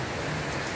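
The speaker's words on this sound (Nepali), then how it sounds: "मेघ गर्जेर पानी आयो" Heavy rain pours down during a monsoon storm, a dense, loud, even rush of water that fills the whole short stretch, with no distinct thunderclap standing out.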